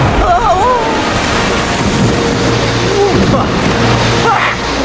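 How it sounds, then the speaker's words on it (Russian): Big ocean waves crash and roar with heavy wind noise buffeting the microphone, loud and continuous, while voices talk and call out over the surf. "Эти волны больше, чем гигантская тыква во время сбора урожая."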